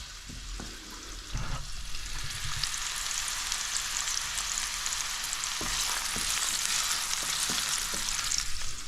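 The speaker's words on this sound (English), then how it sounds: "I love that sizzle." Onions frying in a hot pan on a home stove, a steady close sizzle with occasional stirring clicks and light knocks, no talking.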